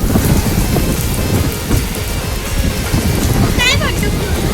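Heavy rain pours down in a dense, constant hiss, loud and close, with a brief high squeak partway through.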